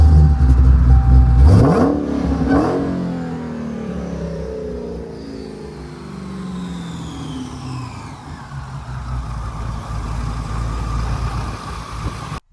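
A 2019 Dodge Challenger SRT Hellcat Redeye with a 6.2 liter supercharged V8 idles with a deep rumble, blips through two quick revs, then rises into a long rev with supercharger whine before settling back to idle.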